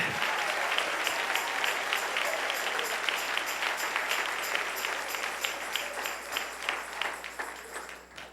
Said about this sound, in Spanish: Dale un aplauso al Rey en esta preciosa y maravillosa noche.